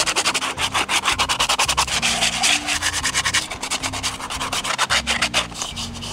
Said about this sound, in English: now I'm gonna finish it off using triggerfish skin as sandpaper to make it shiny